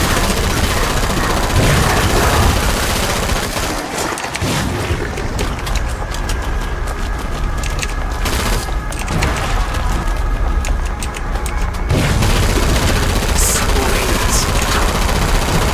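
Game gunfire from Killing Floor 2: dense, loud bursts of shots and booms fill most of the stretch, easing briefly in the middle before resuming, with a short spoken word in between.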